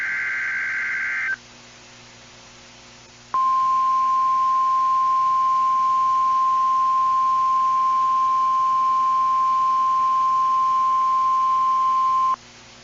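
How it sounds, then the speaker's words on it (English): Weekly test of the NOAA Weather Radio warning alarm in Southwest Michigan: a short burst of data-like tone, a pause, then a loud steady single alert tone held for about nine seconds before cutting off. "The signal you just heard was our weekly test of the NOAA Weather Radio Warning Alarm System"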